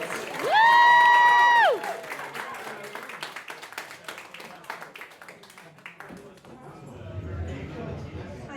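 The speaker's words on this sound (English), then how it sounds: "Side A, start your round of applause for the fantastic Debbie Holt." Applause and clapping from a comedy club audience at a pub venue greet a comedian taking the stage, following a loud tonal burst at the start; the clapping is scattered and moderate, and fades into room noise before quieter shuffling.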